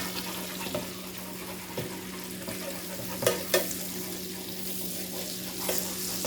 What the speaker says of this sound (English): we'll just let the butter cook for a moment